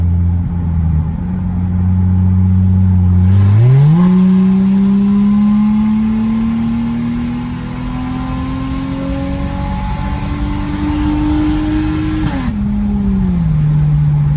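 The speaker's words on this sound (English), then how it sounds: "I'm gonna demonstrate how the car reacts whenever I floor it" A turbocharged 2JZ Lexus GS300 with an open downpipe pulls hard at full throttle from inside the cabin, the engine note climbing steadily through a long loud rise before backing off.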